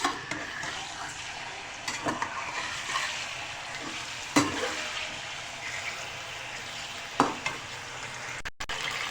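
Chicken sizzling in hot cooking oil in a wok (kadhai), a steady close frying hiss with occasional stirring clinks and scrapes, no talking.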